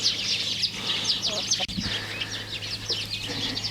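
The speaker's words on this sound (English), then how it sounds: "There's a chicken in there." Chickens roaming an orchard among fallen apples, giving soft repeated clucks and chirpy calls over a low steady hum, with a brief bump partway through.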